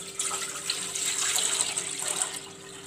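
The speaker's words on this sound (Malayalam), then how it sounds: "ഞാനിപ്പോൾ പാൽ ഒഴിച്ചു കൊടുത്തിട്ടുണ്ട്." Milk being poured into a bowl for a custard, banana and biscuit pudding, a steady close trickling stream of liquid running for a few seconds with no talking.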